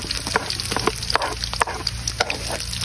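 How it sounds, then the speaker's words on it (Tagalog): Garlic and onion sauté in a hot pan for a spicy egg curry, a loud, steady close-up sizzle with crackling pops and intermittent scraping stirs, no one talking. "Magigisa na tayo"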